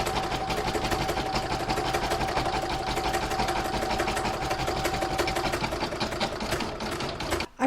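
An embroidery machine stitches the gold hat band of a snowman coaster design, a steady fast mechanical whir and rapid needle clatter running loud and continuous, easing off only at the very end.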